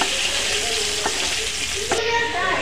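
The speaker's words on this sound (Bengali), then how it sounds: "আলুটাকে ভালো করে ভেজে নেব।" Potato pieces seasoned with turmeric fry in hot oil in a kadai, giving a loud, continuous sizzle, broken by two sharp scrapes of a spatula stirring them.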